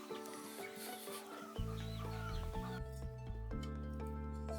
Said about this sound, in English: You have to go out and let the chickens out of the coop.